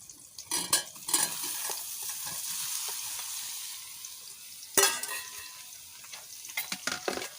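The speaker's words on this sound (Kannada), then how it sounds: "ನಮಗೆ ಈ ಸೋಯಾ ಚಾಂಕ್ಸ್ ಇದರ ಚೆನ್ನಾಗಿ ಫ್ರೈ ಆಗಬೇಕು" Soya chunks fry in hot oil in a pan with a steady close sizzle, broken by scraping stirs and a few metallic clinks of the spatula, with a louder stir burst near the middle.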